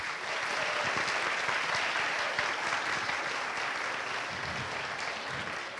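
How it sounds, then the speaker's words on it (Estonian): Dense, sustained applause fills a hall during a school show, a steady roar of many hands clapping together without pause, loud and continuous throughout. "Teeme aplausi!"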